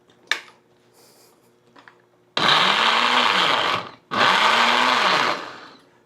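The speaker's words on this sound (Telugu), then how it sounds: "ఎందుకంటే జ్యూస్ మిక్సర్ కదా అందుకు." A juice mixer grinder running in a home kitchen, two loud whirring bursts of about two seconds each separated by a short stop, with faint clatter before the motor starts.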